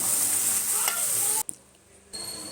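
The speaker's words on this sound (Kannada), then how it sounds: "ಕಡಲೆಕಾಳನ್ನು ಬೇಯಿಸ್ಕೊಂಡು ನಂತರ ಅದಕ್ಕೆ ಒಗ್ಗರಣೆನ ಹಾಕ್ತಾಯಿದ್ದೀನಿ" A hot tempering of spices is poured into boiled chickpeas, and oil sizzles loudly and continuously up close, drops away almost to silence for a moment, then resumes more quietly.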